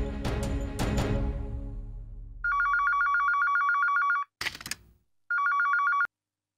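Electronic telephone ringing in a household drama scene, repeated trilling bursts of a ringtone after a decaying musical hit, with a short noisy sound between rings and no talk.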